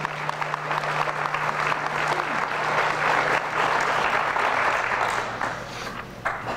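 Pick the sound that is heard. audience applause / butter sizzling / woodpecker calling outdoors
audience applause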